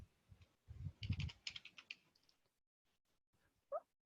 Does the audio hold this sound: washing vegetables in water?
no